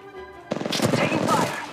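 A rapid burst of gunfire in the Apex Legends shooter game starts abruptly after a short quiet moment, fast repeated shots rattling on loudly until the end.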